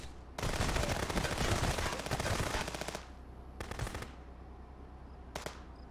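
Automatic gunfire in the video game Contraband Police: a long, loud sustained burst followed by two shorter bursts, with a faint steady background hum between them.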